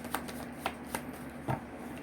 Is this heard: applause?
no